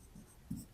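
Pen scratching on paper during a math lesson, a few short soft strokes close by, quiet and alone.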